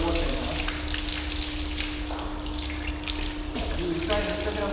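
Tap water runs steadily into a sink during ritual washing before prayer, a close, continuous splashing stream with drips while people talk over it.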